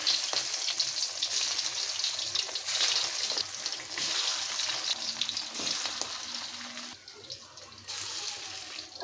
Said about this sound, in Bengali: সাথে আমি মুঠাগুলো ভেজে নিব